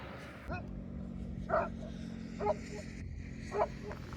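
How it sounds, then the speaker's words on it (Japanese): A dog barks threateningly at a walker from far away on a pilgrimage route near León, Spain, a few short, faint barks spaced about a second apart over steady traffic and outdoor background noise. "こんなに遠くからでも犬に威嚇される。"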